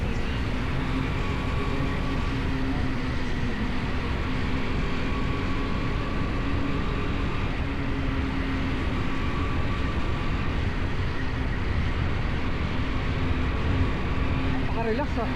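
A Lambretta X300 Special scooter's engine drones steadily through a test ride, an unbroken hum with wind and road noise running at a constant level from start to finish.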